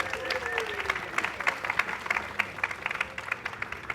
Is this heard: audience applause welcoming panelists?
yes